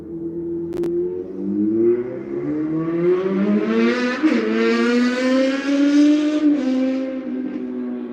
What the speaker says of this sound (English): did you hear that? These guys on motorbikes, they drive past this road every fucking night